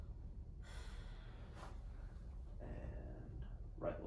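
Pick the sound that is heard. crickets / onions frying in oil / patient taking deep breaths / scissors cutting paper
patient taking deep breaths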